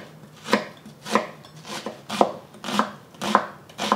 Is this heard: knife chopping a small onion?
yes